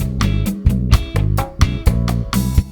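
A full music loop with drums and layered instruments plays without the Expanse 3D spatial plugin, steady punchy beats recurring roughly every half second, loud and alone.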